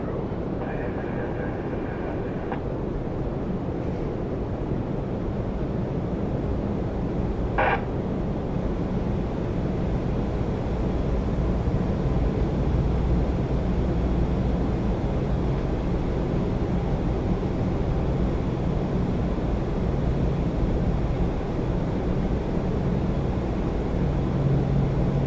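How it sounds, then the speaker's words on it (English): A Porter Embraer E195-E2 jet airliner arriving at Toronto Pearson from Montreal, a broad steady engine roar, loud and sustained, with a brief chirp mid-way and faint background noise. "Here's the Porter. Embraer E195 E2 from Montreal"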